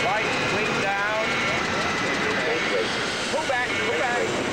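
Loud, steady aircraft engine roar during a landing with an engine fire on number one engine, a continuous drone filling the whole stretch without break.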